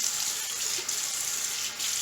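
Water runs from a tap at a sink for wetting a shaving brush and face, a steady hiss with brief dips as the flow is interrupted, fairly quiet and without speech.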